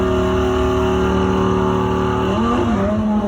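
A 5.2 litre V10 sports car with 640 horsepower pulls away hard on a drive-by, its loud engine note steady and rising before a gear change. The rear wheels lose grip as it moves off.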